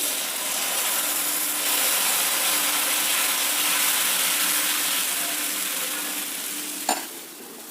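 Dosa batter cooking on a pan over a low flame, a continuous even sizzle and hiss close by, ending with a single light scrape or tap.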